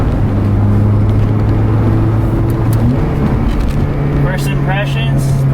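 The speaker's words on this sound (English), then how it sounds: "I guess we'll go for a drive now and test it out." A 9th-generation Honda Civic Si with a short shifter drives along, its engine droning steadily with rising and falling tones as it accelerates and shifts, under constant road noise.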